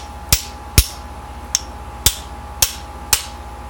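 Six sharp metallic strikes land a socket against a transmission seal on an R50 Mini Getrag 5-speed gearbox, spaced roughly half a second apart, close and loud over a low steady hum.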